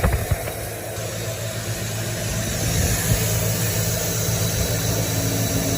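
A Slant 6 engine idles steadily after a carburetor swap, its low, even rumble running close and continuous without any revving.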